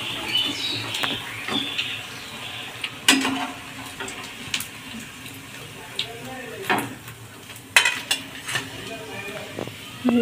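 Paneer potato cutlets frying in a pan, a steady close sizzle with occasional utensil clinks and stirring scrapes throughout.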